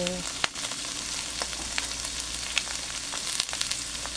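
Squash (kalabasa) cooking in a pan for ginataang gulay is stirred, giving a soft steady sizzle with scattered scraping clicks from the spoon.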